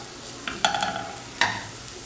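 Black pepper powder and chilli flakes sautéing in a pan for a Kerala restaurant-style chilli fish, with a soft steady sizzle and a few sharp scraping stirs of a spoon against the metal.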